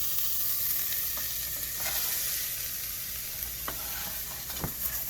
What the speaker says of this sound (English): Get all these vegetables cooking in together.